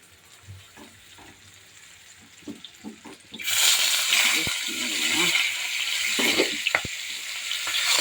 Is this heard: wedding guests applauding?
no